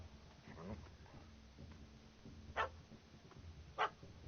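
A dog barks twice in the Witcher 3 game, sharp yaps spaced apart against a soft ambient backdrop, with game voices murmuring faintly earlier.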